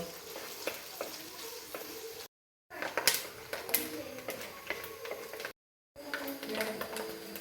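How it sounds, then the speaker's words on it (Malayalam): Coconut pieces frying in hot coconut oil give a steady close sizzle with crackling pops, broken by two brief silent gaps. "അപ്പോൾ അവിടെ വെളിച്ചെണ്ണ നന്നായിട്ട് ചൂടായിട്ടുണ്ട് അതിലേക്ക് ഞാൻ തേങ്ങ കൊത്തിട്ട് കൊടുക്കുകയാണ്"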